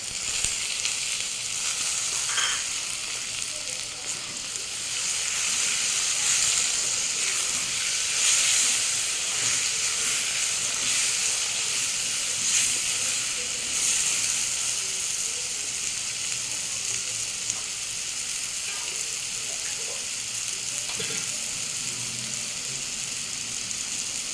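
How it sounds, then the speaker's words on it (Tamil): Garlic sizzles in hot oil as tomatoes go into the pan, producing a continuous, fairly loud crackling hiss close up that holds steady with small popping spikes throughout. "பூண்டு போட்டு ஒரு நிமிஷம் ஆயிடுச்சு இப்போ தக்காளி போடுறேன்"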